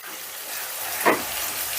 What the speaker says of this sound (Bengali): এবারে গ্যাসের আঁচটা মিডিয়ামে রেখে পেঁয়াজটা আমি হালকা লাল করে ভেজে নেব।